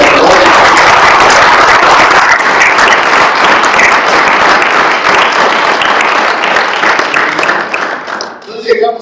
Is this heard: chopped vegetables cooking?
no